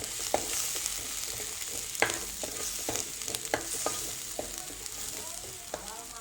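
Chili powder is stirred into a mixture frying in a pan, with a steady soft sizzle under repeated scraping and clinking spoon strokes at an uneven rhythm, close and fairly quiet.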